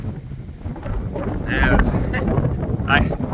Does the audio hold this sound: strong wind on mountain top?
yes